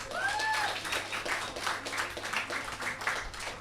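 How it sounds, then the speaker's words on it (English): An audience at a talk on British Black music claps, a fairly quiet scattering of hand claps with a couple of whoops near the start. "can we give a round of applause for those points?"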